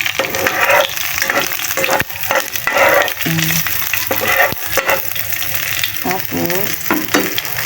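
Garlic sizzling and frying in an old pan, a loud crackling sizzle punctuated by clattering utensil scrapes and stirring, with a brief spoken word over it.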